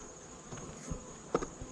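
Honey bees buzz around backyard beehives, a faint, steady insect drone with a few individual bees passing close to the microphone.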